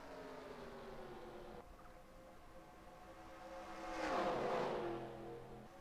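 Race car engines drone as the field starts at Daytona in the NR2003 racing game, with layered whining tones swelling louder near the end before easing off. The sound is faint overall and carries no talking.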